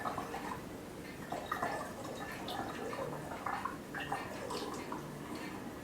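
Root beer pouring and bubbling into a glass, a steady gurgle with soft crackling carbonation, close and fairly quiet.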